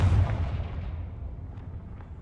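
A Confringo fire spell goes off in Hogwarts Legacy, a loud booming blast with a rumbling low tail that fades over about two seconds, with no voices.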